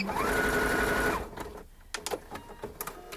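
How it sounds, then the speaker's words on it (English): A sewing machine runs steadily for just over a second while stitching holes in fabric, then stops, leaving quiet handling clicks and small knocks. "right now we're sewing all the holes in this cute little pretty thingy"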